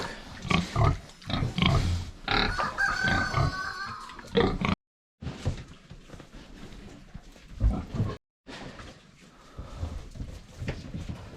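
Piglets grunting and oinking in a farm pen, repeated close, fairly loud bursts of snorts and squeals broken by two short silences.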